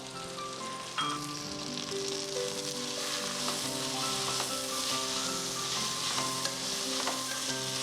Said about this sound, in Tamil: புதினாவை போட்டு ஒரு டூ டு த்ரீ மினிட்ஸ் வந்து நல்லா வதக்கிட்டு